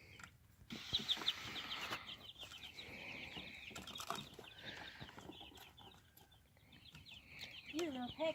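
Plymouth Rock and Asian Black chickens give soft, fairly quiet clucks and chirps, with occasional wing flapping and a faint voice in the background.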